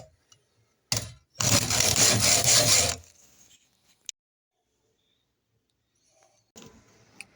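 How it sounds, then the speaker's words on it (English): Chipboard circles bolted onto a drill spin against very coarse sandpaper, giving a loud rough grinding burst of about a second and a half, with a few quieter clicks and a shorter scrape around it. "I'm running them in the drill with the very roughest sandpaper I could find to make them a touch smaller"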